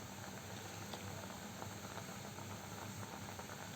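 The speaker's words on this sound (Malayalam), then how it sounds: "തിളച്ച് വന്നിട്ടുണ്ട് മീൻ കറി" Mackerel and mango curry with ground coconut bubbles in a pot, a quiet, continuous patter of small pops and simmering close by, with no talk over it.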